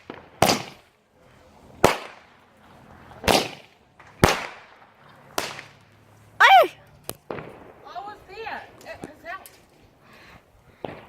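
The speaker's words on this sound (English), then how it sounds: "Gatling gun!" Gatling gun fireworks fire a rapid string of loud, sharp bangs with crackling bursts between them. Excited voices talk and shout over and between the blasts.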